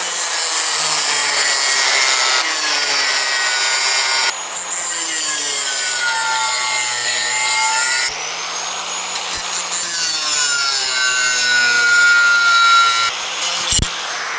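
Power saw cutting a mocked-up piece of sheet metal for a bracket on a 1963 Ford Galaxie 500, a loud continuous whine with shifting pitch and brief pauses near 4 and 8 seconds, with no talking.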